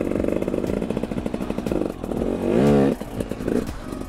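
A dirt bike's engine revs under bursts of throttle, a loud rough close buzz that climbs and falls in pitch, with one sustained rising rev near the middle and clattering mechanical noise around it.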